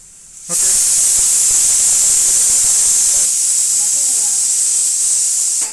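A pressure cooker whistle releases a loud, steady steam hiss that bursts in after half a second and blows continuously to the end, with faint voices underneath.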